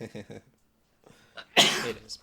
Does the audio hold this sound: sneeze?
yes